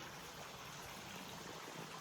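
A small waterfall at Poço Azul in the Azores gives a faint, steady hiss of falling and trickling water, heard from a short distance, with no talking.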